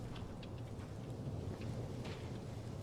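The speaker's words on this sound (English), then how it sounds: "the storm" Thunderstorm in the video game Life Is Strange Double Exposure: steady, dense rain hiss with a low continuous rumble of thunder, even and unbroken throughout.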